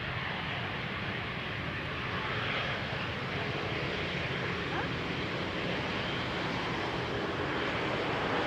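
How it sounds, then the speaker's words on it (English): An Easyjet Airbus airliner arriving on runway 18R at Amsterdam Schiphol Airport, a steady loud broadband engine and air roar held throughout, with no clear rise or fall. "Now the Easyjet Airbus here,"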